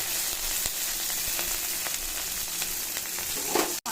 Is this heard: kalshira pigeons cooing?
no